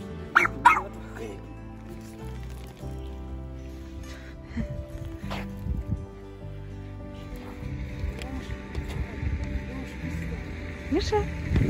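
A dog barks and yips with whimpering whines in a home, the sounds scattered through nearly twelve seconds over a steady low hum while a person speaks nearby.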